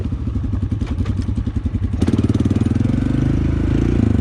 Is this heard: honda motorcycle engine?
yes